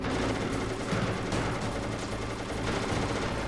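Explosions and gunfire in the Metal Gear Solid video game, a dense, continuous barrage of loud crackling blasts with no pause.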